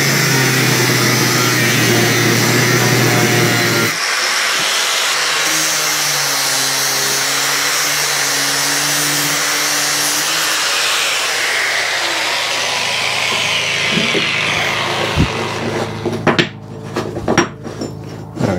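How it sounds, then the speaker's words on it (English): Metal pieces being drilled out to size in a metalwork shop, a loud continuous whining drill and grinding tone with shifting pitch, followed by metallic clanks and knocks near the end. "that's them drilled out to size"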